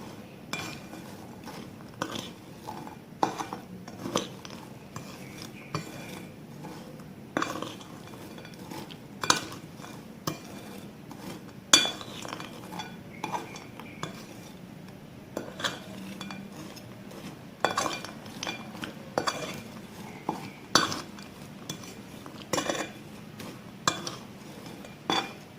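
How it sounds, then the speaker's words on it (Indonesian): Macaroni in a pan being stirred together with Chocolatos, giving a steady run of irregular scraping clinks and knocks of a utensil against cookware for the whole stretch, with no talking. "kita aduk rata coklatosnya."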